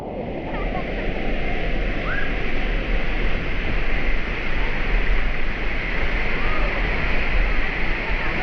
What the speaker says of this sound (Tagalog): malakas yung baksak ng tubig